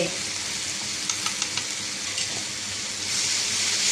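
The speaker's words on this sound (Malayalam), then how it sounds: "ഇതൊന്ന് പച്ച മണം മാറുന്ന വരെ ഒന്ന് ഇളക്കി കൊടുക്കാം" Chili powder and asafoetida sizzle steadily as they fry in a pan, with a few soft scrapes of stirring over the continuous close hiss and no talking.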